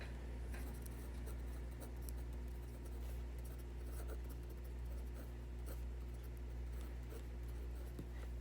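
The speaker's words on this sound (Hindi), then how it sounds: "तो यहाँ पे हम सॉल्यूशन सेट भी लिख देते हैं।" A pen scratches across paper as a solution set is written out by hand for a math exercise, faint irregular strokes over a low steady background hum.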